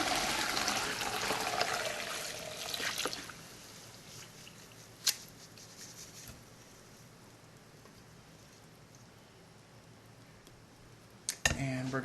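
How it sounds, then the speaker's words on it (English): Thai tea is poured through a big, rusty strainer, a splashing trickle that is strongest at the start and then thins to a faint dribble, with a couple of sharp clinks near the end. "A big strainer to get rid of the majority of the tea"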